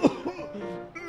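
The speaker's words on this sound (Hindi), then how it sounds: "अरे यार आपको तो बहुत तेज खांसी है" A single heavy cough bursts out sharply at the start, followed by a quieter throat sound and faint voiced noise in a close, indoor setting.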